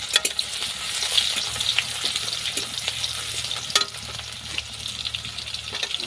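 Garlic sizzles and fries in hot oil in a pan, a steady crackling hiss with stirring scrapes throughout, close and loud with no talk.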